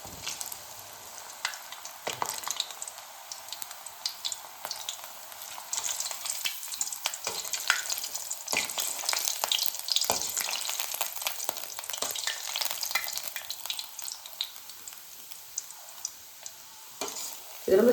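Small pieces of dried bread, cut for bread gulab jamun, fry in hot oil while being turned, giving a steady close crackling sizzle with occasional stirring scrapes, no voices.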